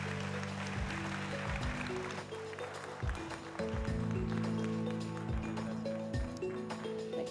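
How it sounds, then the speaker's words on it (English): An audience at a land stewardship panel applauds, a steady patter of clapping heard over sustained background music tones, moderately loud and continuous throughout. "let's just have one more round of applause for this whole panel"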